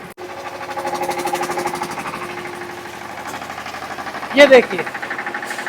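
A Kanan brand power generator runs close by, giving a steady rhythmic engine chug throughout. Someone talks over it, and a brief louder clatter rises near the end.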